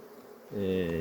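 Honey bees at a hive of weak, varroa-damaged colonies being merged: faint background gives way halfway through to a loud, close, steady buzzing hum.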